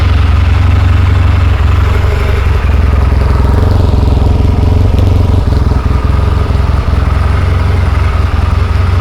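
An engine runs steadily after being cranked, a loud, close, continuous rumbling idle with a mechanical clatter that holds evenly throughout.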